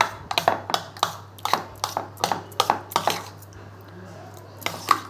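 Spoon clinking and scraping against a bowl while mixing fruit salad of pomegranate seeds and banana in almond milk, a quick irregular series of close metallic taps that slows and fades toward the end.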